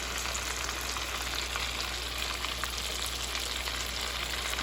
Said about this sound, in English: Okay, we just flipped over our Salisbury steak. They're cooking just right.